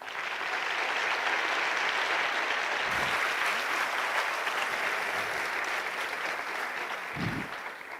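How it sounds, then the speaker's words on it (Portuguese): An audience at a literary festival panel applauds writer Julian Fuchs, a broad, even wash of clapping from a crowd that holds steady throughout, with a couple of low thumps partway through. "Então, queria pedir aplausos ao Julian Fuchs."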